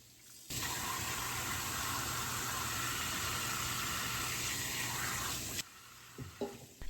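Cold tap water gushes loudly and steadily over beef bones in a sink for about five seconds, then cuts off, leaving quiet with a few small knocks and drips.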